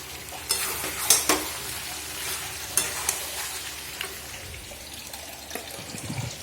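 Meat cooking in a pan with a spoon stirring and scraping, giving a few sharp clatters over a soft, steady sizzle in a home kitchen, with no talking.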